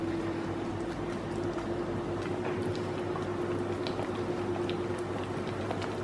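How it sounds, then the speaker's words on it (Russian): Baking soda fizzes in a honey mixture for a honey cake, a steady soft crackling fizz with fine bubbling pops, continuous and close, with a faint steady hum underneath. "Сейчас начнется реакция соды с медом. И начнется шипение."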